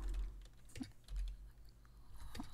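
Typing on a computer keyboard during data entry: soft, close, irregular key clicks in short bursts under quiet room noise, with no talk.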